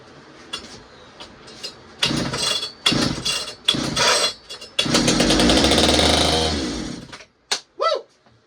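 An old Pioneer P-41 two-stroke chainsaw being revived after repair coughs through several short bursts, then fires and runs loudly for a couple of seconds before cutting out with a few final sputters.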